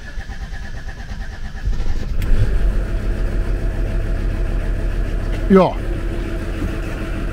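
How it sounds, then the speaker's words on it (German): A Volvo truck's five-cylinder diesel with a high-mileage engine and an earlier oil-pressure problem rumbles steadily, rising in a brief rev near the end, then settling back to an even idle, with a short word spoken over it. "ist der Leerlauf wieder von dem LKW wieder normal"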